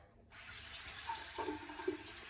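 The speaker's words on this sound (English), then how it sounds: "I like to give the water a few minutes, let it run hot" Hot water pours steadily from a bathroom sink tap to wet a washcloth. The flow starts abruptly after a short silence and runs as a continuous close hiss and splash.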